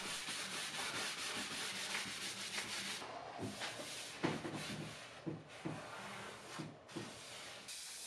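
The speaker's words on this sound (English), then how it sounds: "I'm going to start sanding the top with 100 grit sandpaper" Rhythmic scratchy rubbing of 100-grit sandpaper on the wooden top of a dresser, back-and-forth strokes, close up and fairly quiet, with brief pauses between passes.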